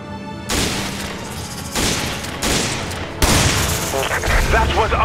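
Loud bursts of Resident Evil 5 gunfire crack and boom in a Mercenaries mine setting, several heavy volleys in quick succession with a sharp blast near the end, mixed with game voices.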